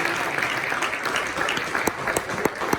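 A church congregation claps together at an evangelical service, dense continuous applause filling the room with a few sharper individual claps standing out toward the end.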